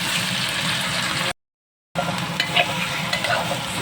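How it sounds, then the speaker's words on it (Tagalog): Potato pieces sizzle and crackle in hot frying oil, half cooked for a chicken curry, with stirring scrapes and a brief cut of silence midway. "sunod natin ang pritong potato para sa ating chicken curry"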